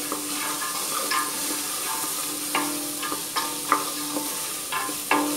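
Pumpkin, carrot and other vegetables for chicken fried rice sizzle steadily in a pan, with intermittent clicks and scrapes of stirring over a constant frying hiss.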